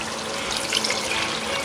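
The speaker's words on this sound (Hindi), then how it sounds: "हुण मैं जी जल्दी दे नाल पानी ऐड कर दी है" Water pours steadily into a cooking pot of spiced chana pulao in a home kitchen, a continuous close, moderately loud splashing rush with no talk over it.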